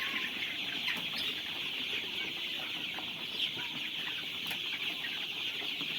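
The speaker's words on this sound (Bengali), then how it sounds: "এই যে বসে আছে মুরগি, উঠে নামে, ওরা খেলা করে এই বাঁশের উপর দিয়ে" Sonali chickens on a farm perching and hopping on bamboo poles, a dense chorus of continuous clucking and chirping from many birds with occasional wing flaps over steady farm ambience.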